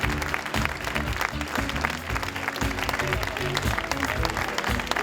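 An audience at the Charles Proust chocolate competition award ceremony at the Salon du Chocolat in Paris applauds a second-prize winner, with loud sustained clapping and some music or voices underneath.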